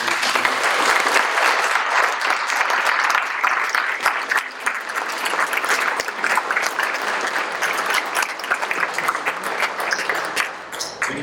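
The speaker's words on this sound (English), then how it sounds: "Let's have a big hand of applause" Loud, sustained applause from a crowd at a Republican club forum, clapping densely and steadily for several seconds before thinning slightly toward the end.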